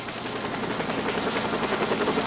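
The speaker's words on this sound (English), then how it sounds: "A Flight for Life helicopter arrived" A Flight for Life medical helicopter arrives at a rescue scene, its rotor and engine producing a steady, fairly loud broadband whir with a faint rhythmic chop that holds level throughout, with no voices.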